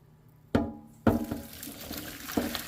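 Boiled potatoes being tipped into a colander, with water splashing and pouring through the strainer in a couple of sudden bursts followed by steady draining and dripping, close and moderately loud.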